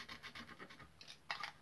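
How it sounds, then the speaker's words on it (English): Sandpaper rubbed quickly over a small piece of wood in a few short, quiet scratching strokes, close and faint, with a slightly stronger final pass. "with a bit of sandpaper,"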